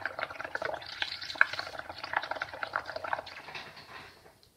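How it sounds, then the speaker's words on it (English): Soft, close crackling and fizzing of many small bubbles popping, a dense quiet sizzle that gradually fades toward the end. "It's fun to hear the bubbles pop."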